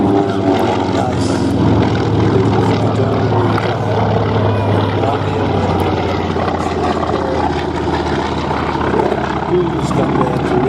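A Grumman Wildcat warplane's propeller engine drones as it taxis at the Flying Legends airshow, a loud, continuous rumbling roar with crowd noise mixed in underneath.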